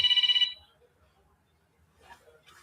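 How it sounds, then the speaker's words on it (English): Telephone ringtone at a livestream, a loud rapid electronic trill lasting about half a second, followed by near silence and then brief faint speech. "I got a phone call."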